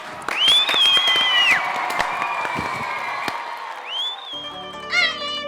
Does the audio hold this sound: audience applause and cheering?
yes